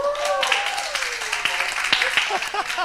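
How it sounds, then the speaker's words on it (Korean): A youth group at a church claps briefly under overlapping talk and exclamations, a light patter of hands rather than a full ovation. "자, 여러분 먼저 박수 한번 주세요."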